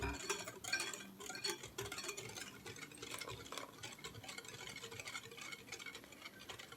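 A half-and-half mix of vegetable oil and butter being stirred for cookie dough gives rapid, light ticking and scraping strokes of a utensil against a bowl, quiet and close, with no voices.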